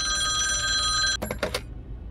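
A telephone rings inside a video game: a steady electronic ring holds for about a second, then cuts off into a few short clattering bursts before going quiet. No one speaks.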